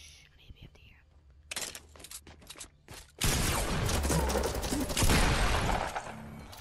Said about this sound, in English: Was that a minigun? What was that? Oh, it was an LMG.